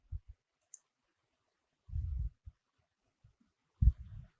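Mouse clicks while navigating the Project tab menu in MS Project software, a handful of short, dry, close clicks spaced out, with a quiet pause between them.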